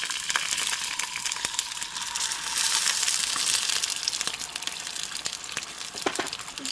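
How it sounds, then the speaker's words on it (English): Water goes into a hot pan of frying vegan dumplings, giving a steady hissing sizzle with crackly bursts that swell in the middle and then settle down, close and moderately loud. "I'm going to add a little bit of water."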